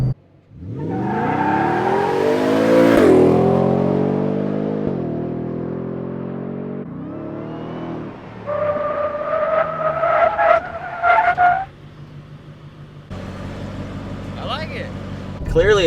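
A 2023 Ford F-150 Raptor R performance truck launches hard, with loud rising engine revs, tire squeal and gear changes, then further bursts of acceleration. The engine roars close and loud, with brief talk near the end.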